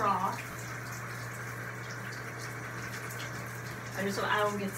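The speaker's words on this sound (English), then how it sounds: "So this shower head is very strong." A strong shower head sprays water into a tub while a dog is rinsed, a steady close hiss of running water throughout, with a voice speaking briefly at the start and end.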